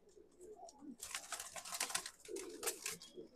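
Madrasi and Punjabi pigeons coo softly at close range, with low repeated throaty calls over rustling and flutter, fairly quiet overall.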